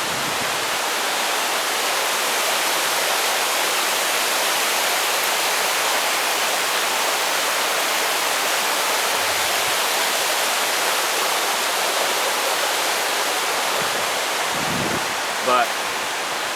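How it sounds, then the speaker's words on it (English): A little mountain brook flows along a hiking trail, its steady rushing babble filling the scene close by and evenly loud, with a brief low thump near the end. "The beautiful little brook, the sounds, the birds."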